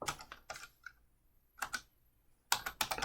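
Typing on a computer keyboard while compiling a socket program, heard as short clusters of close, crisp key clicks separated by quiet gaps, with no talking.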